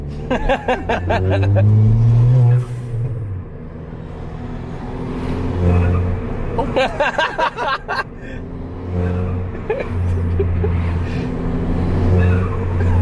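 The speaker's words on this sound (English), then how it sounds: "Give me my blow off valve." A Ford Fiesta ST fitted with a blow off valve, with engine revving and sharp vents alongside loud excited voices talking over the car.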